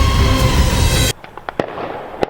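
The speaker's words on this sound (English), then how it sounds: "as you can see, people are already doing fireworks" Fireworks bursting outdoors on the eve of the 4th of July: a loud dense roar of crackling explosions first, then a quieter stretch with several separate sharp bangs and pops at varying distances.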